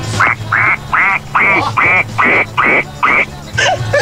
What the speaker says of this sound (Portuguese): Um pato.